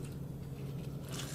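A folded, soaked necktie is pressed by hand to push water out, giving a soft continuous wet squishing close up with no talk.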